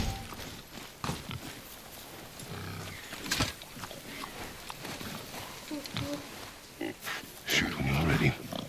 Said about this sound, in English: I knew it was a boar.